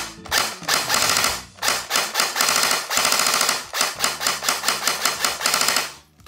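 Rapid mechanical full-auto bursts from a Krytac P90 airsoft electric gun, a close, loud ratcheting chatter fired in several strings of varying length with short pauses between, no talking.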